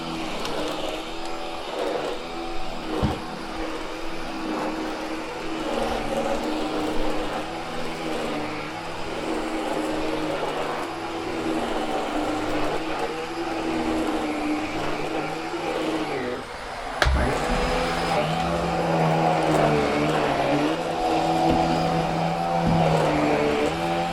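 A Hoover H Upright 500 Sensor Plus upright vacuum cleaner runs continuously nearby with a steady whirring motor drone, a short thump partway through, then a slightly louder, brighter tone as it moves over a lightly used room.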